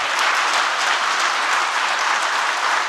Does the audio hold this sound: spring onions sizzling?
no